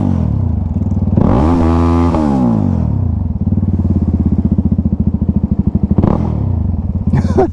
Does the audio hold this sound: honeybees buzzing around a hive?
no